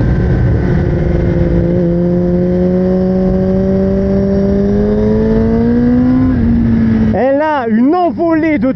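A 2024 Kawasaki ZX10R motorcycle engine holds a loud, steady high drone that climbs slowly in pitch, then breaks into rapid throttle blips with sharp rising and falling revs near the end, close to the listener.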